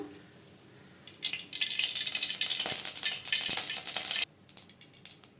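Oil poured into a hot kadai hisses and crackles in a steady sizzle for about three seconds, then cuts off, leaving a few soft ticks and pops, close and moderately loud.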